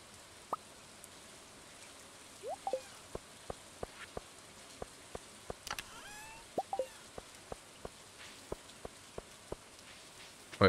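Rain in the farming game Stardew Valley, a soft, faint steady patter with sparse sharp drip-like ticks scattered throughout.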